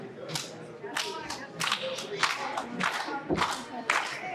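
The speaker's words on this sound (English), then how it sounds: "Crowd rallying behind Iron Cowboy." Wrestling crowd cheering and clapping behind a wrestler in the ring, a loud, rising mix of claps, shouts and whoops with bursts of sharp slaps, the rally building across the arena.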